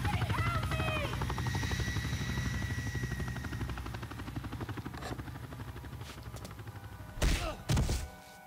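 Jetpack flying in the From Russia With Love video game, a steady loud whirring drone with rhythmic low pulsing that fades slightly, then two heavy thuds near the end.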